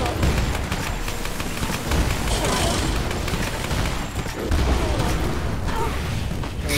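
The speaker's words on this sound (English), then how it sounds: "Can we stop with all the explosions?" Rapid explosions in Lara Croft and the Temple of Osiris, a dense run of booming and popping blasts that continues through the clip, with voices talking underneath.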